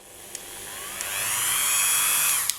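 A buffing wheel whirs against a polymer clay leaf pendant, a high, steady whine that slowly swells in loudness and then cuts off, with a few small clicks, close up and without speech.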